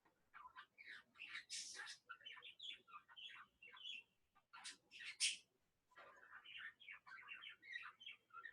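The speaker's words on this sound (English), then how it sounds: "Savannah's bird is trying to help her." A pet bird chirps and tweets indoors in rapid bursts of bright, high calls, with brief pauses between runs, close and clear with no speech over it.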